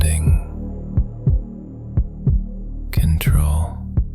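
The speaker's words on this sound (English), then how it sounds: "heart pounding." A pounding heartbeat sound effect: deep, heavy thumps in a steady, slightly uneven rhythm over a low droning hum, with a brief whooshing swell partway through and no voices.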